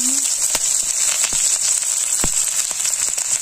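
Cumin and chopped green chili sizzle loudly in hot oil, making a steady, close hiss. Sharp pops and crackles burst through it at intervals as the spices fry.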